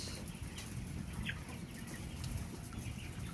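Broiler chickens clucking in a poultry house, a dense, continuous chorus of many birds close by with steady low murmuring and occasional sharper calls.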